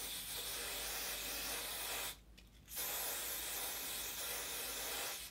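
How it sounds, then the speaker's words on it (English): Hair spray hisses in two long continuous bursts close by as it is sprayed along a wig hairline, with a brief pause between them. "So I'm just gonna spray this whole part, like right where my hairline is"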